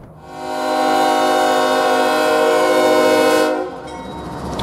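An intermodal freight train passes with a loud, sustained multi-tone horn blast lasting about three seconds over the rumble and clatter of rail cars, then the horn cuts off and the rolling noise continues.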